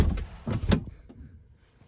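Tesla Model X doors closing automatically, heard as a cluster of close mechanical thuds and a latching clunk, followed by fading motor whirr and faint handling noise, with no talking.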